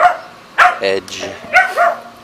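A dog out playing gives a few short barks or yips over about two seconds, close by and mixed in with someone speaking a brief word.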